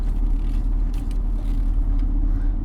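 Jeep Comanche pickup with a 2.5-liter four-cylinder engine pulling away, a steady low engine rumble and drone running loud and close throughout with no break.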